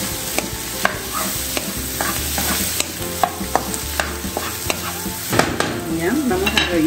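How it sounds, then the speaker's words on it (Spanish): Potatoes frying in a pan give a steady close sizzle, broken by repeated scraping and stirring clicks across the whole stretch, with no talking. "Acá tengo yo las papas friendo."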